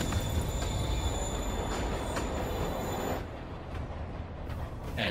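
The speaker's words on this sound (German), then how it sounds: "Der Zug bewegt sich." A train in the Spider-Man video game rolls along with a loud, steady rumble and high squealing wheels that drop to a quieter hum near the end, with no voices.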